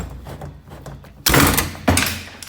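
Opel Easytronic automated gearbox straining to engage second gear: a quiet mechanical hum, then two loud clunking thuds about half a second apart as the robotic actuator forces the shift, with no talk.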